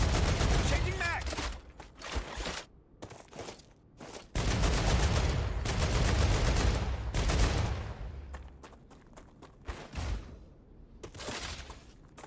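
Bursts of gunfire in the video game StarRupture crackle close and loud, with long rapid volleys broken by short pauses over about twelve seconds.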